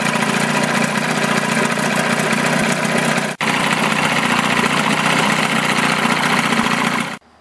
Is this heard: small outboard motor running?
yes